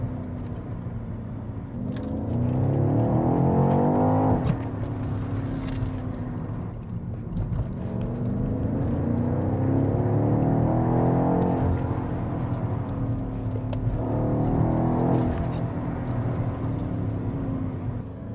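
A BMW X6 M Competition with an 8-speed ZF gearbox accelerates hard from inside the cabin, its engine note climbing in three rising sweeps, each cut off by a quick gear change, loud and steady throughout.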